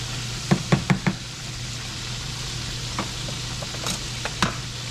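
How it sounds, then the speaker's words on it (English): Pieces of chicken fried steak being stirred in a frying pan of hot grease, a few sharp knocks of the utensil against the pan over a steady low sizzle, close and moderately quiet. "Let's stir these up a little bit."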